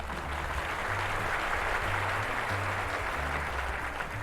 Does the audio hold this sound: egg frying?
no